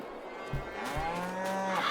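Black and white dairy cows in Farming Simulator 22 low, drawn-out moos, two or three calls overlapping at moderate loudness over a steady farm ambience, no talk.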